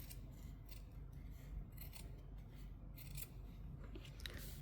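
Scissors snip through fabric close by in a quiet run of crisp, repeated cuts over a soft background hiss, with no talking.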